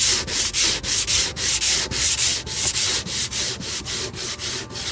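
Fiberglass being sanded by hand with sandpaper wrapped on a foam sanding block, making fast, steady back-and-forth rasping strokes, about three or four per second. Close and loud, with no talking.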